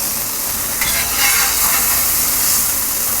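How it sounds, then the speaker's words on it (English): Hamburger meat frying on a Blackstone griddle with Cajun Bayou blend seasoning, a loud, close, continuous sizzle and hiss with a brief swell as the meat is turned. "So basically what we're doing here is cooking the hamburger meat."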